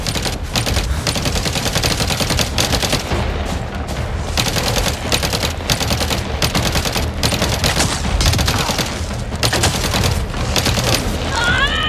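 Rapid gunfire in the Halo video game, dense continuous volleys of shots with booming impacts filling the whole stretch, a voice faintly mixed in.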